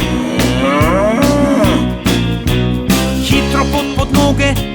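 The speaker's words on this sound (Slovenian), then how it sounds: "Krava se jezi, muka na ves glas." A cow moos loudly in a children's song, a run of long, strong lowing calls that repeat in a steady pattern over a bouncy musical backing.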